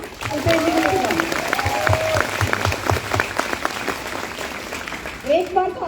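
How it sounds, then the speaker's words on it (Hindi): A seminar audience at a training session in Ahmedabad claps together in a steady, dense burst of applause that fades slightly toward the end, with a few voices over it. "एक बार मैं चाहूंगी जोरदार तालियां अल्पेश जी के लिए।"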